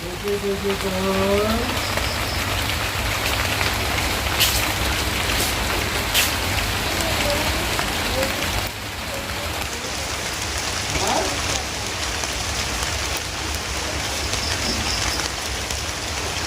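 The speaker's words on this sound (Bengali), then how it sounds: "এই যে বৃষ্টির আওয়াজ শুনতে পাচ্ছ কিন্তু বৃষ্টি দেখা যাচ্ছে না" Steady patter of light rain falling continuously on a surface, a soft even hiss throughout with a few faint chirps early on.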